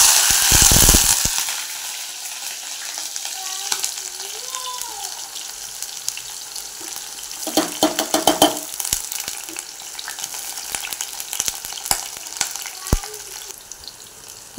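Onion, bay leaf and cinnamon hit hot oil with a loud initial sizzle that settles into a steady frying crackle, with a few clinks of a spoon stirring through the middle, no voices.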